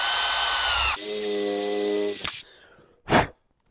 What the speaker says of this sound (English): Put a little bit of oil down, drill a quick hole